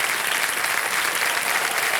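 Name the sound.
studio audience applause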